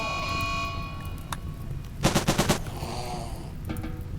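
Gunfire in the strategy game Rimworld: a quick burst of about five rapid shots around the midpoint and another short volley near the end, set over a steady game background hum, with no talking.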